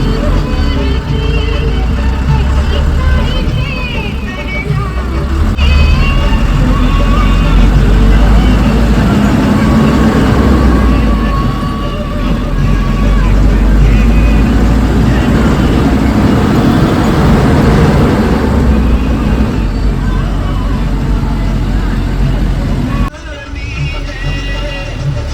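A bus engine drones steadily and loudly as the bus climbs a steep, narrow mountain road from Salooni to Bhadela, a dense continuous rumble with road noise heard from inside, under a speaking voice.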